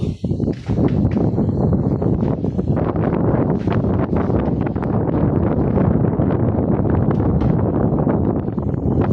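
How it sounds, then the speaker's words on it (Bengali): Strong wind blows outdoors, buffeting the microphone in a loud, continuous broadband roar that holds steady throughout with no voices. "প্রচণ্ড বাতাস।"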